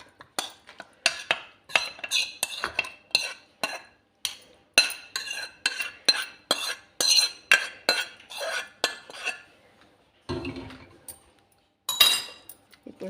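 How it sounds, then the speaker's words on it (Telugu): Zucchini chutney ingredients of green chilli, tamarind and chopped zucchini mashed by hand in a bowl, a rapid series of close, crisp clinks and squelchy presses, steady and rhythmic, pausing briefly before a few heavier thuds near the end. "ఇప్పుడు బాగా నలుపుకోండి"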